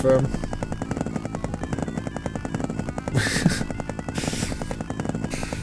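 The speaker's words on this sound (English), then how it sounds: "We have a helicopter that is not aesthetically designed." A helicopter in an emulated arcade game makes a rapid, steady rotor chop amid bursts of game gunfire and effects, with talking over the top.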